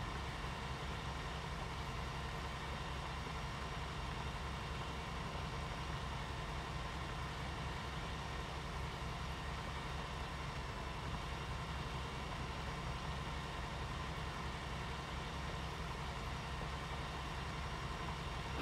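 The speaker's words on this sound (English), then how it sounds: "But the tractor sure is kind of idling around long here." A tractor engine idles steadily in a farming video game during a corn harvest, a low constant hum that runs unchanged and alone at moderate distance.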